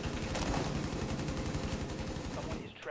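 Rapid automatic gunfire in Rainbow Six Siege, fast regular bursts that are loud and continuous, with a short break near the end.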